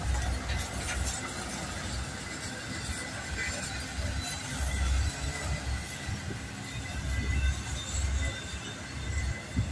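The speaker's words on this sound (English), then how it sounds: "Karen Crass, here is your train." A heavy freight train rumbles steadily past on the rails, a deep continuous roar with faint metallic squeals and clatter throughout.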